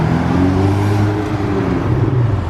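A Ferrari sports car arriving on a Monaco street, its engine droning loudly with rising revs and a steady mechanical whir, close by and with no talking.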